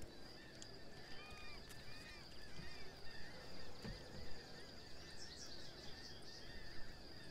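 Birds honking in the Die Young video game, several faint goose-like calls in scattered bursts over a constant windy, watery ambience.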